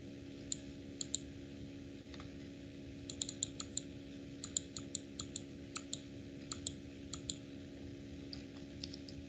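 Computer keyboard typing, light scattered clicks in short bursts over a steady electrical hum, quiet and close with no voices.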